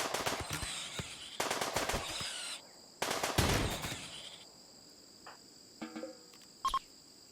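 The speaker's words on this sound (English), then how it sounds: "At dusk, the colonists station themselves outside and open fire on the rabid" Colonists in the video game Rimworld fire at a rabid capybara at dusk, with rapid bursts of gunfire in two clusters, then scattered single shots over a chirping insect backdrop.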